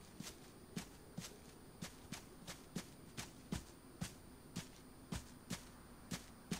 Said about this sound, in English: Hear its footsteps.